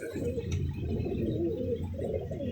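Pigeons cooing in their coop after rain, a steady low, throaty burble of overlapping coos running continuously throughout, close and fairly loud with no talking.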